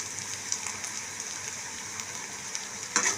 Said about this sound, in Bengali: দেখুন ভাজা প্রায় হয়ে এসছে, গোল্ডেন কালার হয়ে গেছে।